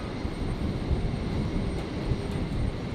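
Singapore Airlines airliner taxiing at Brisbane Airport on a stormy night, a steady low engine rumble and roar holding evenly throughout, with no voices.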